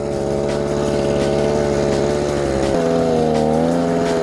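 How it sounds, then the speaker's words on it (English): Small petrol generator mounted on an e-bike, droning steadily close by with a buzzy engine tone, its revs shifting partway through as the load changes. "you can hear the RPM of the generator kind of going up and down as the bike controller"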